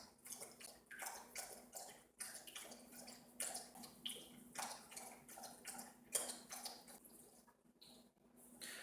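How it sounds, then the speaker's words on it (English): A dog laps water from a bowl, with quick, soft, irregular licking splashes close by and no voices. "my dog is drinking water right now"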